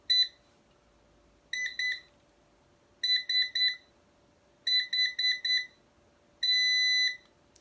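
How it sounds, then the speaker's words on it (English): A Nokta Makro Pulse Dive metal detector cycles through its sensitivity settings: a single beep, then groups of two, three and four clipped electronic beeps, then one long tone, all crisp against a quiet background. "1 beep, 2 beep, 3 beep, 4 beep, and a long beep. That's the different sensitivities."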